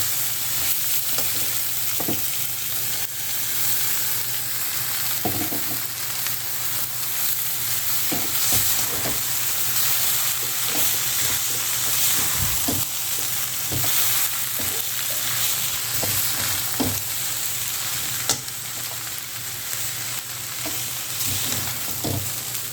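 Cucumber poha, flattened rice with cucumber, fries with a steady sizzle in a pan while a spoon scrapes and stirs at irregular intervals, with no voices over it.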